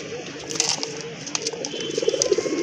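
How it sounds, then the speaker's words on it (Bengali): A pair of pure native Bangladeshi pigeons coos softly and close by, a few low, gentle repeated coos over quiet background noise. "এটা হচ্ছে আরেকটা পেয়ার গোলা কবুতরের অরিজিনাল পিওর দেশি কবুতর"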